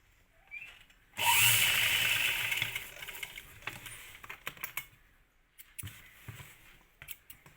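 A sewing machine stitches the neck lining of a kurti in one brief, close whirring burst, followed by scattered light clicks and handling taps.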